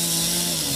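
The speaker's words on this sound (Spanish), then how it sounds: "la alcaldía de San Salvador tuvo que hacer uso de motosierras para cortar las ramas" Chainsaws cut through the branches of a fallen tree that landed on a minibus in a street in San Salvador, a loud, steady high-pitched engine whine held without a break through the moment, no voices heard.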